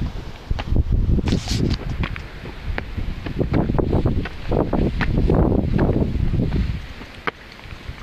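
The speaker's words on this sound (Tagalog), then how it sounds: "Kusog yung kaing hangin di ay." Strong wind buffets the microphone in loud, rumbling gusts with some rustling, continuous throughout with no voices.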